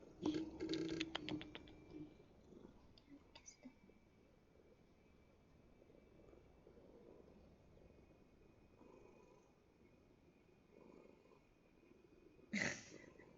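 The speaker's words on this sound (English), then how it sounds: "Very good background noise, by the way. The cat purring, right?" A cat purrs faintly in a quiet room, a low continuous rumble with a brief burst of nearby movement or mic handling at the start and a sharp bump near the end.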